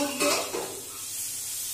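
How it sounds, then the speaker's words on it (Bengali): Steamed potatoes being stirred into fried pointed gourd in an oily pan, a brief scrape of the spoon over a soft sizzle that fades quickly. "আমি সেই আলুগুলো কিন্তু পটলের সঙ্গে একটু নেড়ে দিচ্ছি"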